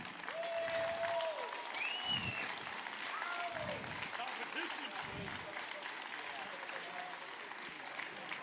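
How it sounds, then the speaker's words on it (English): Crowd applauding fishing tournament anglers at an outdoor gathering, a sustained, fairly faint round of clapping with a few whistles and voices mixed in. "Let's give them a big round of applause."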